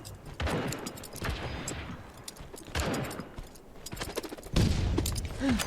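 Video game gunfire in bursts of rapid automatic shots, several volleys separated by short pauses, loud and close with echoing tails.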